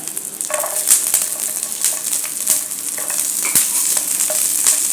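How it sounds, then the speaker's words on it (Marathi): Garlic cloves go into hot oil with green chillies for a Maharashtrian chilli thecha and fry with a steady, close sizzle. Sharp stirring taps and clicks sound every so often, and no one talks. "आता याच्यातच घालूया लसणाच्या पाकळ्या"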